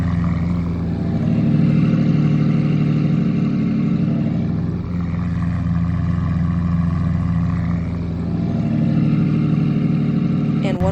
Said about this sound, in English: Here are both engines in action at idle.